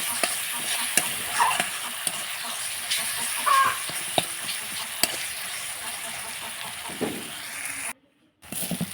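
A spice paste of ground dried chili, turmeric and salt fries in a pan for chicken mughlai, making a constant close sizzle broken by sharp scraping clicks as it is stirred, then a brief silence near the end.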